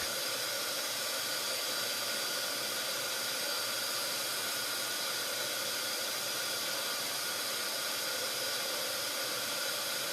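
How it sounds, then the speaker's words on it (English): A heat gun blowing hot air to remelt sealing wax in a spoon, a loud, constant broadband hiss with no break from start to finish. "it doesn't take long with your heat gun to melt these"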